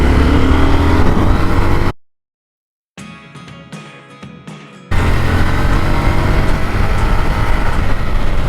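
A KTM Duke motorcycle with the LC8C engine pulls hard up through the revs, a loud, steady engine roar that cuts out abruptly into silence, returns as a brief rougher burst with chopped pulses, then surges back to full strength.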